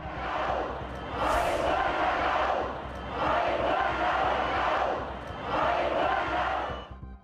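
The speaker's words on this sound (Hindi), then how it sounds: "थाईलैंड की राजधानी बैंकॉक में हजारों लोगों की भीड़" A large crowd of thousands of protesters in Bangkok chanting in unison, loud rhythmic swells of massed voices rising and falling in repeated waves, with a brief whistle-like high tone near the start.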